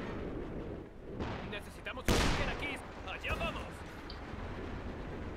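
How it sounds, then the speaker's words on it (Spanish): A sharp, loud demolition charge explosion bursts out midway over rumbling background noise in Company of Heroes 2, with gunfire-like cracks and speech around it. "El sonido que escuchas es una explosión de una carga"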